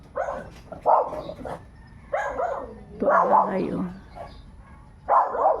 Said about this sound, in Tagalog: daming alaga, daming aso